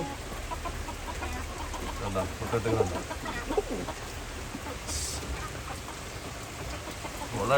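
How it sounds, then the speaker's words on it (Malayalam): Chickens in a coop cluck intermittently nearby against a steady background of falling rain, while a person speaks briefly. "ഈ കൂട്ടിലുള്ള കോഴികൾ"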